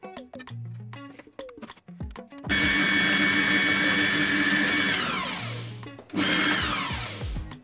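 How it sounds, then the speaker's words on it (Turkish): A large food processor runs in a home kitchen, roaring loudly in a long, steady burst that winds down, then starting again. A voice talks briefly before and between the runs. "Blenderımın içine atıyorum. Mutfak robotu daha doğrusu arkadaşlar"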